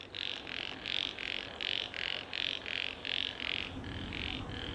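In the evening undergrowth near Marina Bay Sands, a frog or toad gives a clear, regular series of pulsing croaks, about two per second, fairly close and steady over a soft background chorus.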